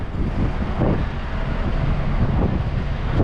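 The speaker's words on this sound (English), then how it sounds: "the wind picks up" Wind blows outdoors beside a truck and low trailer, a loud continuous rumbling buffet against the microphone, with low vehicle noise underneath and no speech.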